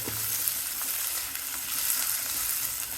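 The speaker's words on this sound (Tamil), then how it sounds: "இது கொஞ்சம் நல்லா வதக்கிடணும்" Green chillies sauté in a pan with a soft, continuous sizzle and faint crackle, heard closely but quietly, with occasional light stirring and no one talking.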